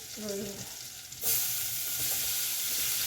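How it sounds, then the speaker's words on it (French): Chopped onions hit hot butter in a pan and erupt into a loud, close sizzle that holds steady, preceded by a brief voiced hum and light handling. "Et je vais mettre mes oignons que j'ai coupés."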